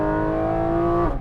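A Porsche GT4 RS with a PDK gearbox pulls hard with a strong steady engine tone for about a second before it cuts off abruptly.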